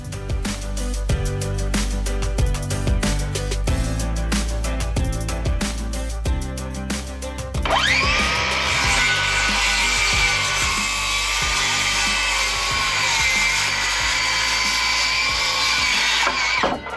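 A power saw whines up and cuts through a 2x4 plate for wall framing, a loud sustained cut lasting about nine seconds after a stretch of clattering and knocking as the lumber is handled.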